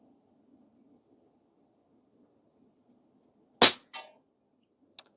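A single sharp shot from an Air Venturi Avenge-X .25 air rifle cracks out over faint background hum, followed by a short rattle of the action or a distant impact and one more small click.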